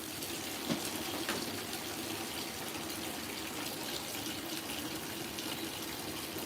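An LG WT5480CW top-load washing machine fills with water, a steady rushing gush pouring into the tub at close range, constant and unbroken with no talking.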